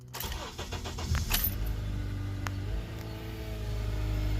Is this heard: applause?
no